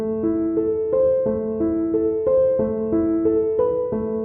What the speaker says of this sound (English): Without it, it sounds like this when I don't press the foot pedal.